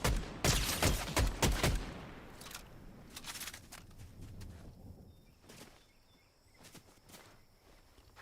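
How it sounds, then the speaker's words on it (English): Video game gunfire: a rapid cluster of loud shots up front, then sparser single reports and bursts trailing off, some sounding more distant, over a low ambient background. "Sometimes you just can't tell which way the bullets are coming from."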